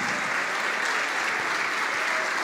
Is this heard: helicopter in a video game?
no